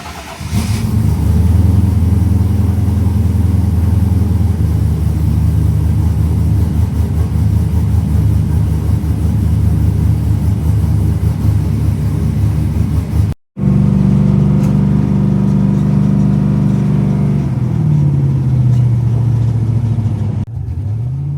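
A car engine, apparently a small formula-style cart with no windshield wipers, cranks and starts, then runs and revs steadily and loudly nearby. There is a brief cutout midway, and the pitch rises and falls as the throttle is blipped.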